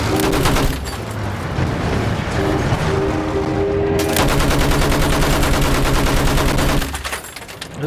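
Battlefield 1 gunfire, loud bursts of rapid automatic shots and heavier blasts in quick succession, close and dense, with a brief lull before firing resumes.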